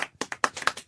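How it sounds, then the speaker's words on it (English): Several single hand claps, about seven sharp, close claps at a fairly quick, uneven pace within a second, heard alone. "you get the slow clap for that one"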